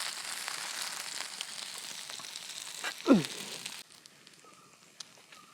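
Masala fish sizzling and frying in a pan, a steady broadband hiss that drops away sharply partway through, leaving quieter crackles.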